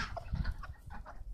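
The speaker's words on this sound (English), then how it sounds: "It looks like we've got a couple chickens eating the pizza bread" Several farm chickens cluck softly and irregularly at close range while pecking at pizza bread, short throaty calls over a quiet background.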